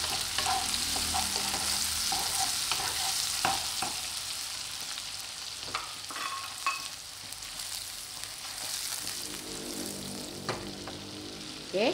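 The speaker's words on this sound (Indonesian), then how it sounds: "kita masukkan tomatnya, kita goreng sampai tomatnya juga" Tomatoes sizzle steadily in a hot frying pan, with occasional scrapes and clinks of stirring, close up and with no talking.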